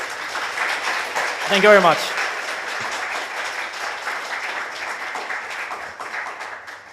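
A conference audience at PyCon APAC 2023 breaks into warm applause after a talk, a dense burst of clapping that swells and then tapers while a voice speaks over it.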